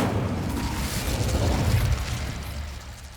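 Incendio fire spell cast in Hogwarts Legacy, a sustained roaring whoosh of flame with a deep rumbling body and crackling texture, loud and continuous throughout.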